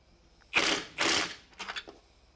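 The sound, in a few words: tightening catalytic converter bolts on a G37 Coupe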